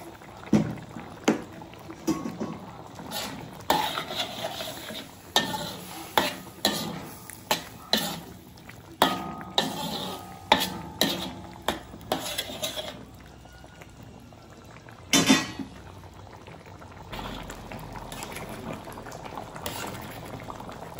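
Beef broth for a spicy cowhide dish bubbles and is stirred in a pot, with repeated splashing, scraping strokes at a steady rhythm, close and fairly loud, easing into a quieter simmer toward the end.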